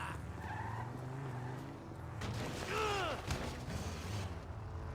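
A car scrapes along a wall in the video game GTA 5, giving a steady grinding scrape with a rising tire-squeal sweep near the middle, loud and close with no talking.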